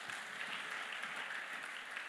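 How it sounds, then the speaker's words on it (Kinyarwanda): Congregation in a church applauding together, a dense, steady wash of clapping from many hands that holds evenly throughout without any voices on top. "Amashyi ku Mana yacu."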